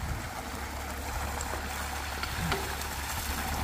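Running water flows steadily at a rustic forest cabin, a continuous broad rushing and gurgling that stays close and fairly loud with no voices over it.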